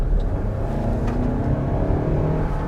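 A 2024 Toyota Highlander accelerates hard in normal mode, its engine drone rising steadily in pitch over a few seconds, loud and continuous from inside the cabin.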